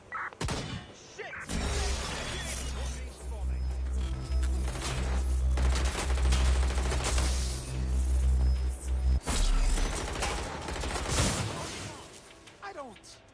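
Gunfire in Watch Dogs Legion, a loud, dense run of shots, crashes and thuds piled over a heavy low rumble for most of the stretch, with voices shouting in the chaos.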